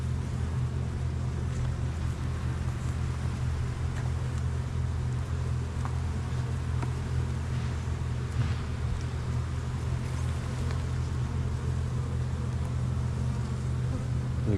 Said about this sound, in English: It's hard to find the queen when there's so many bees.